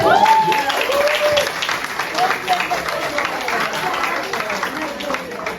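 Audience applause at a Portuguese-language youth evangelization talk, a broad wash of clapping that carries on steadily for several seconds with a speaking voice faintly over it.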